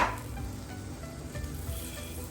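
Butter melts and sizzles in a hot pan, a steady close hiss that carries through without pause after an initial clatter as it goes in.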